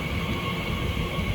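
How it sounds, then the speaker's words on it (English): A Great Western Railway IET train passes at Ealing Broadway on the Great Western Main Line as a steady, continuous rumble and rail roar, fairly loud and close, with no speech over it. "there's also a Great Western Railway IET passing by behind this"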